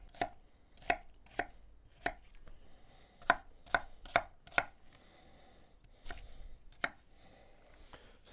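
A knife coarsely chops onions on a cutting board, about a dozen crisp, irregularly spaced thwacks ringing out close and clear against a quiet kitchen background.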